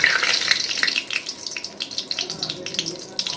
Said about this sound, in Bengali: তেল গরম হয়ে যাওয়ার পর আমি এর মধ্যে দিয়ে দিচ্ছি তেজপাতা